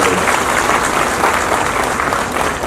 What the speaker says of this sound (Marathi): राज्यस्तरावरच्या टीमसाठी एक जोरदार टाळ्या